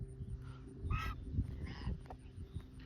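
Geese honk a few times in short, nasal calls, fairly close, over low background rumble and rustling, with no talk.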